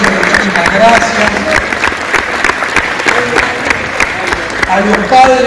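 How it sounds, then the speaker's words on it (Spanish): Sustained applause from a crowd at a community event thanking teachers and volunteers, steady clapping throughout with a few voices faintly heard underneath. "fuerte aplauso para cada uno de los profes que fue"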